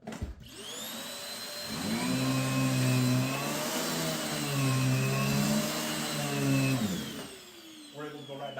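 A vacuum cleaner with a brush roll and lifetime belt system runs loud and steady with a continuous whining hum, at a warehouse moving sale, before cutting off near the end.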